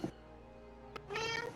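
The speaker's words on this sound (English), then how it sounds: "I find it funny that her meow is so loud compared to Maki's" A loud cat meows twice up close, a short cry followed by a longer, rising meow, with no talking.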